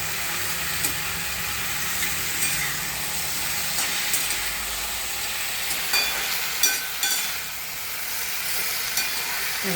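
Sliced potatoes are stirred in a pan with an onion tempering, giving a soft, continuous sizzle and hiss broken by light scraping knocks of the spoon against the pan.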